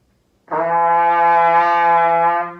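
A single sustained low G trumpet note starts cleanly and holds steady for about two seconds before tapering off, alone and close.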